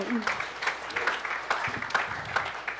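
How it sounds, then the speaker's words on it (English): A small crowd claps steadily for a few seconds, the applause fairly close with no talking over it. "Round of applause for Scale Agentic."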